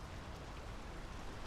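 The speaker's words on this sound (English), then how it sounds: "The rain's picking up." Steady rain falls across an outdoor scene in the game Draugen, a dense, even hiss filling the whole stretch with no voices.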